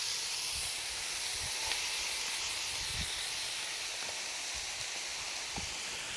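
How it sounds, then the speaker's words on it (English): Chopped onions are added to a pound of ground beef frying in a pan, producing a loud, steady sizzling hiss throughout with a few faint knocks beneath it. "what I like to do is go ahead and add my onions."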